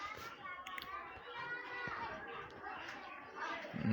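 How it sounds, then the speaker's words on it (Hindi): Children's voices and playground chatter carry through a school setting as a steady background murmur, with mixed high shouts and talk continuing throughout. "आपको बच्चों का शोर भी बैक से आ रहा होगा"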